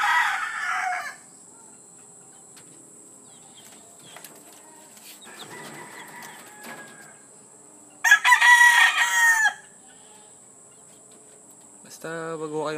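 Farmyard chickens cluck in short bursts, and a rooster lets out one loud crow partway through, with a further cluck at the end and quiet stretches in between.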